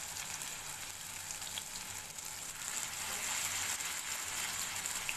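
Potato pancakes frying in oil in a pan over a medium flame, a soft, even hiss and crackle running throughout, faint and close with no voices.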